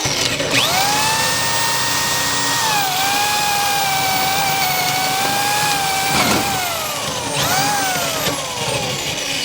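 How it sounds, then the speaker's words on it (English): A DeWalt power drill whines loudly and continuously close by, its pitch sagging under load and rising again as the motor speeds up. "So we have a DeWalt power drill."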